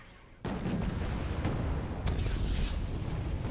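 ATGM missiles launching in the video game Wargame Airland Battle, a sudden loud roaring blast that swells into a sustained rushing rumble, with further thuds layered in.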